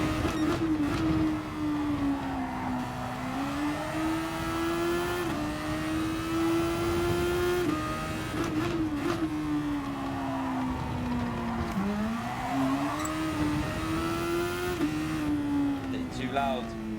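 A race car engine in the GT Sport racing video game drones steadily, its pitch rising and dipping through gear changes, while voices talk over it.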